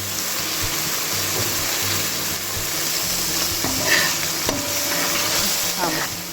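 Saltfish and aloo fry in a hot pan with a constant close sizzle of oil, broken by a few utensil scrapes and knocks as the food is stirred toward the end.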